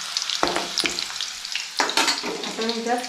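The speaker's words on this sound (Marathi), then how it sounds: "आता इथे तेल उठलंय थोडं गरम झालेलं आहे. यात मी ठेचलेला लसूण टाकते." Crushed garlic drops into hot oil and sizzles sharply in two bursts, and the frying stays bright and close throughout.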